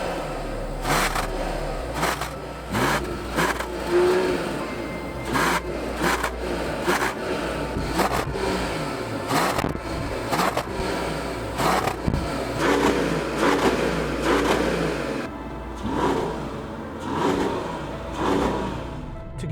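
A 2025 Mercedes-AMG E53 plug-in hybrid, its combustion engine and electric motor working together, cruises through a residential neighborhood at night, giving a steady close rumble of engine and road noise with scattered clicks and knocks throughout.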